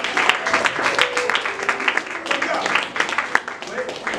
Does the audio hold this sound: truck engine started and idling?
no